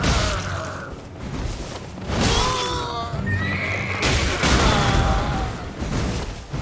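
Horse neighing in the Elden Ring video game, several loud whinnies close by over a busy bed of game battle sounds and rumbling effects.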